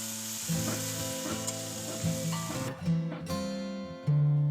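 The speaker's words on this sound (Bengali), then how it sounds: "এই চিচিঙ্গা পোস্তটা প্রচুর নাড়তে হয়" Snake gourd poppy seed curry being stirred in a pan, a steady sizzle broken by repeated scraping strokes of the spoon every second or so, close and fairly loud with no talking.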